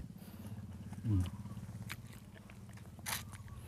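Someone chews and bites crunchy food, most likely snacks fried in oil, in a backyard garden in Isan. The sound is close and rhythmic, with a louder crunch near the start and another later, and no speech.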